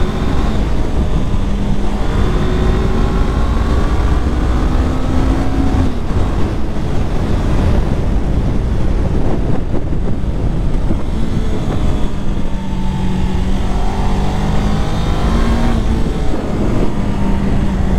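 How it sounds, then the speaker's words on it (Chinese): A 2024 Honda CBR500R motorcycle pulls hard at full throttle in second gear, its engine note climbing steadily through the revs as a loud, sustained roar laced with wind rush, with no talking. "好，现在二档，来油门到底。"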